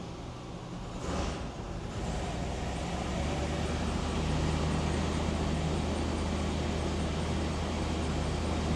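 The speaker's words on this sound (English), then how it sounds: "Let's throw it in gear. Give it a little bit of throttle here." A 5.7 litre Chevy V8 with a misfire, put in gear and given a bit of throttle, its broad, loud roar swelling slightly and then holding steady, close up, with no talking.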